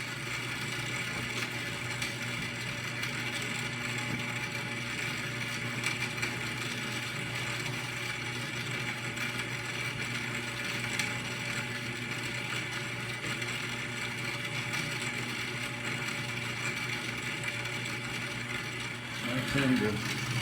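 A Dy-368 grain mill, recently adjusted for misaligned drive couplers, runs continuously with a steady motor hum and mechanical whir, constant in level throughout with a small knock near the end.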